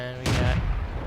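A single tank cannon shot in World of Tanks fires as a sharp, loud blast that decays into a rumbling tail, heard alone after a brief quiet tone.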